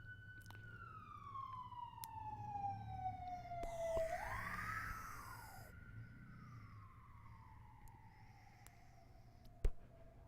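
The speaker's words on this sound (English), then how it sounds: "Motorcycles and ambulances" A siren wails in a long falling-then-rising sweep, loud and close, over low traffic rumble, with a sharp knock near the end.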